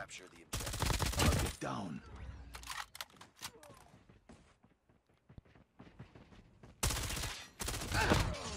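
Loud bursts of FFAR 1 automatic rifle fire in Call of Duty Mobile, two long rapid volleys at the start and end with scattered quieter shots and game noises between.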